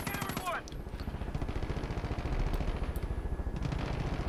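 Rapid automatic gunfire from the video game Far Cry 5, a steady close burst of repeated shots running throughout with loud, dense rhythm and brief higher tones at the start.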